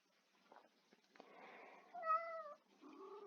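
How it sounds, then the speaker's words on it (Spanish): A cat meows nearby with a few soft bumps, then a drawn-out, clear meow followed by a shorter second one, fairly quiet and alone without talking. "Lo siento, está mi gato cerca."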